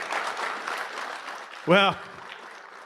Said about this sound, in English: So give him a huge round of applause.